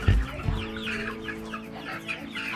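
Meat chickens being moved into a chicken tractor on a pasture poultry farm cluck and squawk continuously, close and busy, with a thump of handling at the start.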